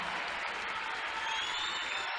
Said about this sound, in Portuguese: Pedimos à igreja que receba com forte aplauso